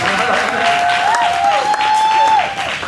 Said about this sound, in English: I need a big applause for that